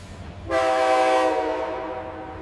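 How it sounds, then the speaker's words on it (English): At a glass factory, a loud, sustained train horn blares suddenly over a low, steady industrial machinery rumble that continues as the horn slowly fades. "Ambient industrial sound, train horn, and heavy machinery hum."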